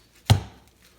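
A single sharp knife stroke slices into plastic packaging around a Ryobi 18 Volt One+ clip fan, one close, crisp thud-like cut that trails off quickly into quiet.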